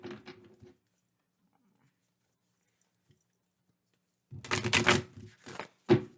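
Mystical Shaman Oracle card deck being shuffled, bursts of crisp riffling and flicking cards near the mic, a short burst at the start, then a longer flurry and a final sharp snap after a quiet pause.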